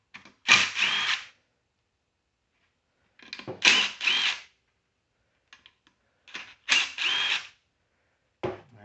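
A power drill spins out 10mm bolts from a Briggs and Stratton 725EX crankcase cover, giving four short whirring bursts separated by pauses, close and fairly loud with no talking.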